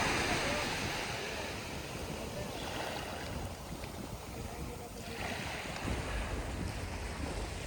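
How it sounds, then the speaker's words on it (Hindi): Wind buffets the microphone at Suvali beach while sea waves wash along the shore in a continuous roar, steady and loud throughout. "मैं समुद्र के किनारे खड़ा था। सामने था लहराता विशाल और गहरा समुद्र।"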